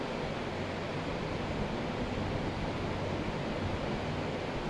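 Flood water rushes through streets in China after heavy rain, a dense, continuous roar of water that stays steady and fills the whole scene without letting up.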